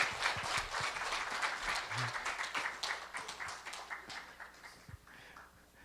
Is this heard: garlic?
no